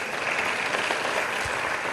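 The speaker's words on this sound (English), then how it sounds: "They deserve a round of applause." A summit audience of young people applauds in a dense, even wash of clapping that holds steady throughout, moderately loud and without voices on top.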